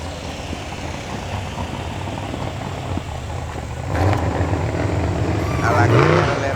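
Steady rumble of a stock big block Mopar car engine idling and then pulling away, growing louder near the end, with people talking over it.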